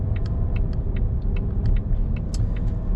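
A 2022 Volvo XC60 B6 AWD R-Design, 295 horsepower and 310 torque, accelerates on the road with a steady low engine rumble and road noise, with brief higher ticks and clicks scattered over the drone.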